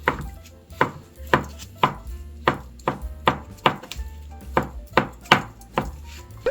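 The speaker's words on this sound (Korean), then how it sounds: "대파 반으로 좀 잘라 주시고요." A knife chops through green onion on a cutting board with a steady run of sharp, close knocks, about a dozen evenly spaced strokes and no talk.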